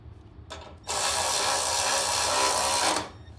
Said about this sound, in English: Then you want to take your drill, tighten that down.